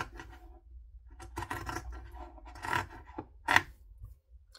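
Scissors laid flat on a bench snip through fabric for a sewing project: a series of short, quiet, scratchy cutting strokes that come close together, with a sharper snip near the end.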